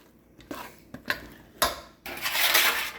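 Butterscotch brownie batter being mixed in a bowl: a few separate clinks and scrapes of a utensil against the bowl, then a louder, continuous rough stirring scrape near the end, close up and with no talking.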